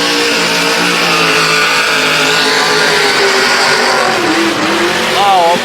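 A 1300HP Holden Commodore ute does a burnout at a burnout event, its engine roaring loud and steady with the pitch sliding near the end; possible crowd noise mixes into the din.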